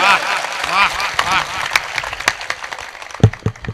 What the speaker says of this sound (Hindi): एक बार पूरा सदन जोरदार तालियां बजाओ